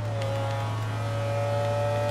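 Steady engine drone in Forza Motorsport 2, the video game, holding a constant pitch throughout with a loud, continuous hum and faint higher whine.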